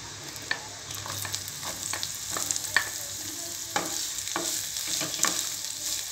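Onions sautéing in hot oil with ginger and garlic for a jackfruit seed pepper fry: a steady bright sizzle under repeated scraping stirs of a spatula, close and continuous with no voices.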